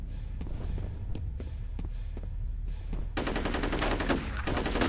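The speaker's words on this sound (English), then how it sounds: "Gun blazing, gun blazing." Rapid gunfire from the PC shooter game FEAR, a dense run of sharp shots that swells into a louder, continuous automatic burst in the second half, close and loud with no talk.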